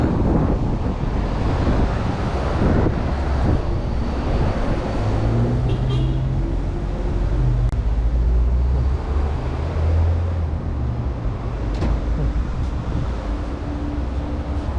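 Gusty wind buffets the microphone in a steady, loud roar on the Heerenstraat in Paramaribo, with passing traffic rumbling underneath for the whole stretch.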